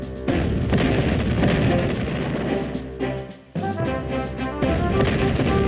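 Cannon artillery fire in the Civil War Generals 2 strategy video game, a dense series of booming shots and rumbling blasts over a steady game music bed, with a brief dip midway.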